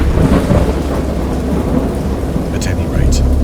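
A game thunderstorm with heavy, continuous rain and deep rolling thunder, loud and close, filling the whole stretch as a steady roar with no voices.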